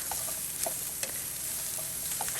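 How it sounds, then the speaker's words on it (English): Vegetables and tofu stir-fry in a pan with a bright, continuous sizzle, broken up by repeated light clacks and scrapes from a spatula. No voices are heard. "So I'm gonna just stir fry this"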